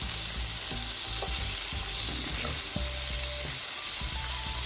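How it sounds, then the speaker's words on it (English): Lamb chops sear in a hot pan, a steady close sizzle and crackle with occasional clinks of a utensil, with no voices. "So since I'm going to braise these, I want to go ahead and get them seared."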